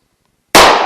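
A single loud, sharp gunshot from a Hornady .357 Magnum round fired at a PASGT-style ballistic steel helmet cracks out after a moment of silence, close and intense, ringing briefly.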